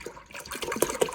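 Milk sloshes and splashes as it is poured into a pot for first-time cheese making, a quick run of close, wet splashes with a couple of sharper splats.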